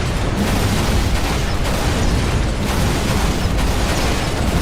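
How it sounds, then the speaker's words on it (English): Needle rifle rounds detonating against a Hunter in Halo Reach, a dense run of loud bursts and booms in quick succession over continuous battle noise. "4 more detonations from the needle rifle will take down the hunter"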